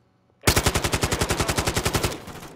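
Rapid automatic fire from an AK rifle in Call of Duty: Modern Warfare II, a loud, close burst of about twenty evenly spaced shots lasting under two seconds, then a short ringing tail.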